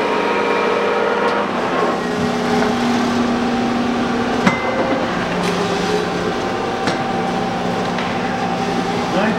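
A Kearney & Trecker Model 315 S-15 vertical milling machine runs steadily in a workshop among other machines, giving a continuous mechanical hum with sustained tones and occasional faint clicks.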